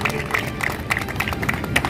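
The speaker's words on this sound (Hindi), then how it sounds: "एक जोरदार ताली शैलेश तिवारी जी के लिए" Audience applause for Shailesh Tiwari at a gathering in Kashi, a steady patter of clapping from a crowd with rhythmic claps standing out, running throughout.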